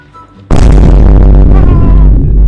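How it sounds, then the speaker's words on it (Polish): A sudden loud explosion in the video game Date by Daylight, a sharp booming burst followed by a roaring rumble that slowly decays. "Patrz jak to wybuchnie."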